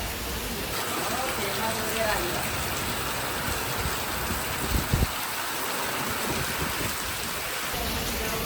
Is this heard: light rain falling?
yes